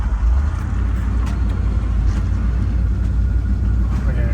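Old junk car engine idling: a loud, steady, close low rumble running without a break, with voices talking over it.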